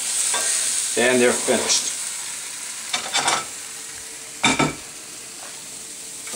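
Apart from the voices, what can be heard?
food sizzling in an iron skillet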